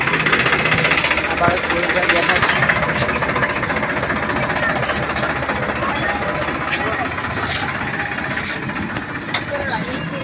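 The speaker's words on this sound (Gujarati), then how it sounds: "ગોડાઉનની અંદર જાય છે ટ્રેક્ટર" A tractor engine chugs steadily and close by as it drives into a warehouse, a rough knocking drone with faint voices underneath.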